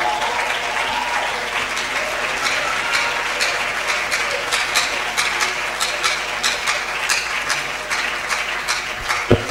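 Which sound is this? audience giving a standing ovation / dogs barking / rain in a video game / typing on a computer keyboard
audience giving a standing ovation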